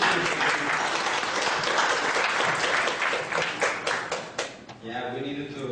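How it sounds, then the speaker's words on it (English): Church audience applause for the worship musicians, a steady wash of clapping that tapers off near the end as a voice begins speaking. "Clap for our musicians."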